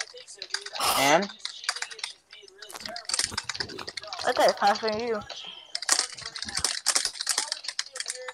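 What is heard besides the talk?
loud fast typing on a computer keyboard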